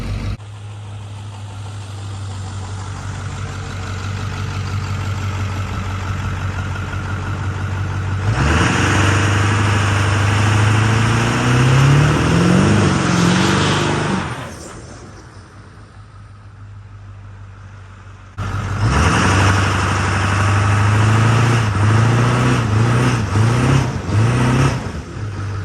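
Ford OBS diesel pickup with a turbo, engine idling with a steady low throb, then revving hard twice, each run rising into a loud whistling spool before dropping back, close and with no talk.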